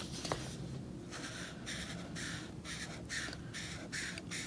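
A black Copic marker dragged across paper in rhythmic strokes, a soft scratchy rasp repeating about once per half second, close and fairly quiet over faint room noise.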